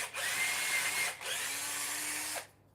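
A power drill with a 4.5mm bit bores toe holes in a roller skate boot, running in two long, steady whirring passes with a brief pause between, close and loud.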